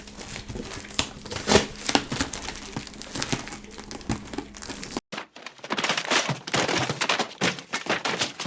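Rough, crackling crinkles and rips of a dress package being torn open by hand, in irregular bursts, close to the microphone, no voices.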